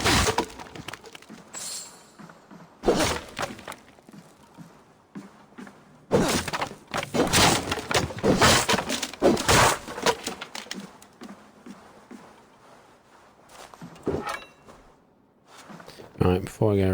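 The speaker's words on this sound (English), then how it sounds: "Smashing up a load of boxes." Wooden boxes smashed apart in the Viking-era game Assassin's Creed Valhalla, loud crashing and splintering bursts with thuds and clinks at irregular intervals, someone talking between the impacts.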